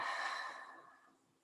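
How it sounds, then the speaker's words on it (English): A slow, deep exhale of breath, close and soft, fading steadily over about a second and a half with no talking, during a guided family relaxation exercise. "take a nice deep breath in and a nice exhale out"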